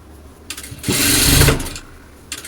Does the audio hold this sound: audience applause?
no